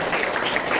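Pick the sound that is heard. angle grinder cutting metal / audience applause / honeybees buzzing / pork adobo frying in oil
audience applause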